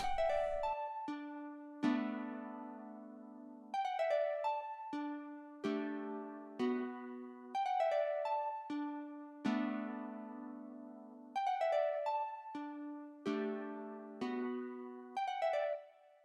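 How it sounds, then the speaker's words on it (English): A soloed guitar part from an R&B beat made with stock FL Studio plugins plays alone: clean, plucked notes ring out in short repeating phrases with steady rhythmic gaps and decaying tails, with no drums or voices. "So the guitar alone sounds like this."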